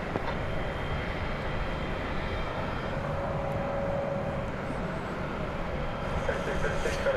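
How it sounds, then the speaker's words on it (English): An American Airlines Airbus A320 taking off at DFW Airport at night, a broad, steady jet engine roar heard from a distance, with speech partly mixed in. "American Flight 1406, it's an Airbus A320."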